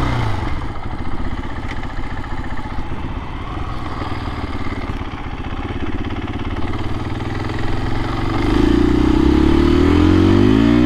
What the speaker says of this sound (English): This motorcycle just hums.